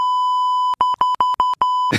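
A button sound effect sounds a loud, steady electronic tone, then breaks into a rapid string of about six choppy beeps, with no voices.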